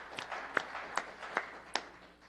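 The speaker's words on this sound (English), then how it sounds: "Okay, everyone's clapping" A few sparse, separate hand claps at a city council meeting, each sharp and fairly quiet, scattered unevenly over a couple of seconds with no talking.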